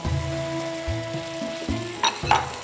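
Sautéing biryani base in a pot with boiled potatoes and pureed tomatoes, a steady close frying sizzle layered with low hum and a few sharp clatters of a spoon near the end.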